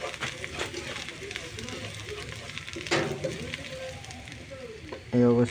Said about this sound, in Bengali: আমি এখন সবজিগুলো ভেজে নেব